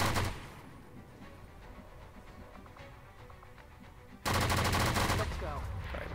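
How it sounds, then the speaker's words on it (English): Sustained suppressive gunfire in the XCOM 2 Halofall mod, a dense, loud burst that kicks in partway through after a quieter stretch of ambient game noise, with rapid repeated shots continuing to the end. "Suppressive fire!"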